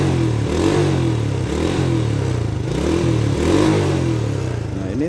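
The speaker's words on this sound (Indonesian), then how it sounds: "cek bagian knalpot, keluar asap enggak ketika digas seperti ini" A used budget motorcycle engine, checked for exhaust smoke, revs repeatedly in loud close bursts, rising and falling over a steady running idle with no talk.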